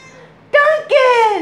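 A pet cat meows twice in quick succession, two loud, close, drawn-out calls in a quiet room.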